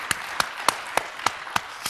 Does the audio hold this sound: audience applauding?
yes